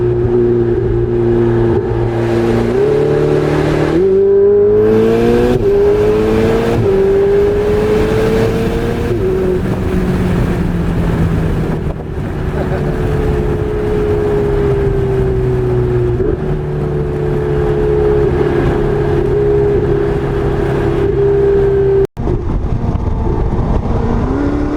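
A Ferrari 488 Spider with a 7-speed dual-clutch gearbox cruises at highway speed around 2,000 RPM, its steady engine drone rising through several quick upshifts and then settling into a smooth, constant hum with road noise.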